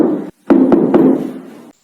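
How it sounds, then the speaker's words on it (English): Three hard, sharp knocks land on a door in quick succession, close and loud. Each rap cuts through a low, droning hum that stops abruptly afterward. "A hard, sharp rap at the door jolted everyone awake."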